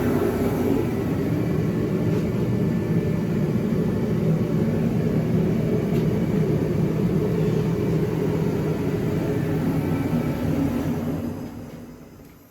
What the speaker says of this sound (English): my heater kicked on